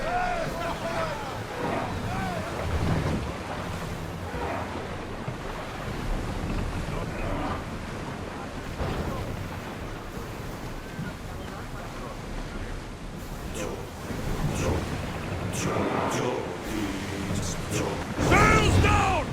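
A ship sails across ocean waves in the video game Assassin's Creed Odyssey, with a continuous wash of wind and surf and a swell of splashing near the end, while voices talk over it.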